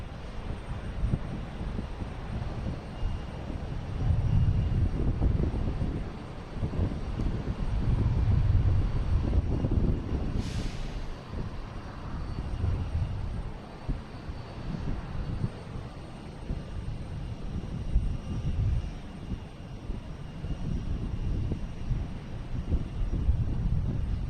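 Cessna Citation business jet taking off at Boston Logan Airport, a steady broad engine roar heard from a distance for a long stretch, with wind buffeting the microphone.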